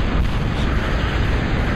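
Units in the real-time strategy game Total Annihilation fire on a hill, giving a continuous loud rumble of artillery blasts and explosions that fill the whole short stretch with no pauses.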